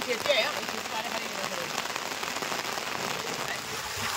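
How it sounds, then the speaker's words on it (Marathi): Heavy rain pours down steadily in the Konkan countryside, a dense, loud hiss of drops hammering surfaces with no break across the whole stretch, near and constant. "भयानक जोरदार पाऊस आहे."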